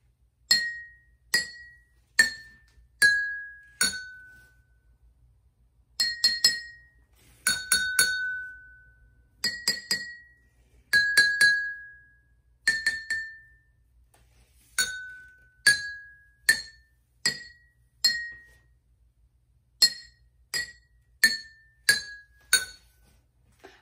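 Cups holding different amounts of water are tapped one at a time, giving bright glassy clinks that ring at shifting pitches, struck in short quick groups with pauses between, clear and alone without talk.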